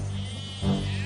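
Sheep and goats bleat out in an open field, a short animal call rising near the end over a steady low background hum, with no one speaking.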